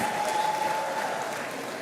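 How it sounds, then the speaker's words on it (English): Audience applause for a graduate at a Lagos Business School executive programmes graduation ceremony, a steady dense wash of clapping from a large crowd lasting throughout. "A round of applause for her once again."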